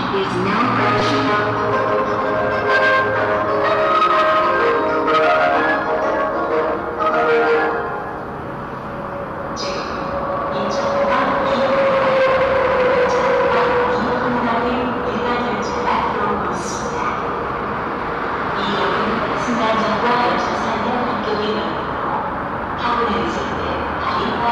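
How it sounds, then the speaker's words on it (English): Rail noise of an all-stop train drawing into Cheongna International City station bound for Seoul Station, a steady rumble with a horn-like tone, heard alongside station announcements and voices. "The all-stop train for Seoul Station is now approaching."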